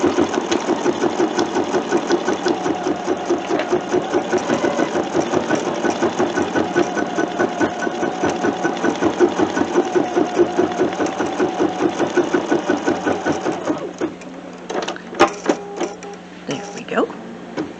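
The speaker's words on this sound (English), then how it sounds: "The first thing it's going to do is stitch out a die line or a placement stitch or a placement line" An embroidery machine stitches a placement line for a Halloween kitchen towel, a rapid rhythmic mechanical chatter of needle strokes that runs steadily, then stops near the end with a few clicks and clunks.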